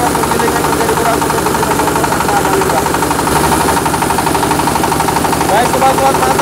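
A MAKTANI MT212 rice milling machine runs with a loud, steady engine rumble and rattling vibration, continuous and close throughout.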